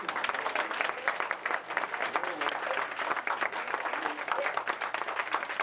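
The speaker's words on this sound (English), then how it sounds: "Would you give them a round of applause?" An audience at a community event in Brush Park applauds, a steady, dense patter of many hands clapping continuously for nearly six seconds at moderate distance.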